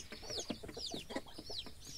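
Chickens cluck continuously and close by in a yard, a busy stream of short overlapping calls at moderate volume, with no voices over them.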